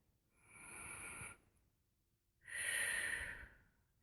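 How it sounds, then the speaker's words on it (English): A slow, deep breath taken close to the microphone: a long, soft inhale, a brief pause, then a fuller exhale, quiet and alone, with another breath just starting at the end. "take a deep breath"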